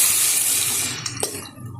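Boiled masoor dal poured into a pan for a Bengali dal with amra, a broad wet splashing pour up close, thinning out near the end with a couple of soft plops.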